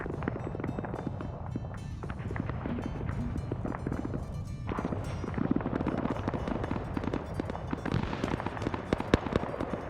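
Grenadier strikes in an online military video game set off dense, continuous rumbling explosions and crackling bursts, loud and chaotic throughout with no pause.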